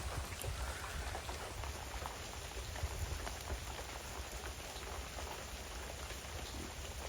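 Steady monsoon rain shower falls over open farm fields, a dense even patter on surfaces throughout, moderately distant and without any voices.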